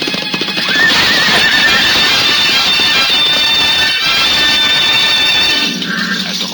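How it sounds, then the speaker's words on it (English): Horses gallop and whinny in a staged medieval jousting scene, a dense, loud wash of pounding hooves and neighs with a sharp crash near the end, heard continuously without talk. "flying hooves pounding the turf like drums of doom"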